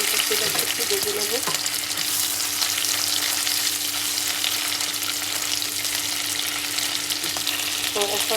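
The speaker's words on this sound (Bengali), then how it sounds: "তো এখন আমি ওই তেলে যে 3টা শীতল শুটকি রেখেছিলাম সেই 3টা শীতল শুটকি ভেজে নেব।" Dried fish (shutki) frying in hot oil in a pan, with a loud, steady sizzle that runs throughout, along with occasional stirring sounds and no talk.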